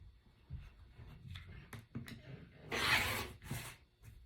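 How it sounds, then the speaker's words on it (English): Scissors cut away the folded edge of a piece of fabric in a quiet room, giving soft crisp snips and a louder rasping slice near the end. "The first thing I'm going to do is straighten up the left side and cut away the folded edge."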